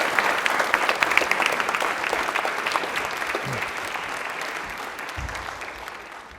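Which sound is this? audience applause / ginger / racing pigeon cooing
audience applause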